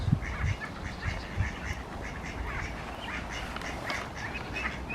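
Several ducks quack repeatedly at the water's edge beside a lock, a busy overlapping chorus of calls nearby over soft outdoor background noise, with no talking.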